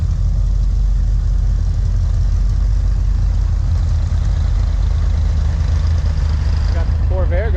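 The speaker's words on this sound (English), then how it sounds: "I got the Fury going." A Plymouth Fury's engine runs in a steady, loud, low drone alongside other warming cars, unbroken throughout, with a brief voice near the end.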